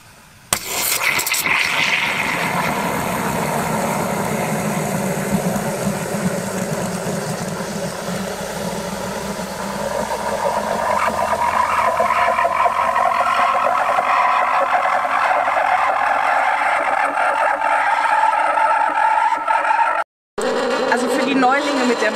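A Bialetti Mukka moka pot on a low-to-medium gas flame in a camper van gives a steady, loud buzzing and gurgling hiss that holds for about twenty seconds, then cuts off abruptly before a brief resumption.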